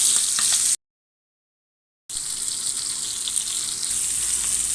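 Loud, steady sizzling of pieces of fish frying in a pan, hissing close by with a brief dead-silent gap partway through, then the frying resumes unbroken, no voices.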